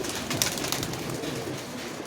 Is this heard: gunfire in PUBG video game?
no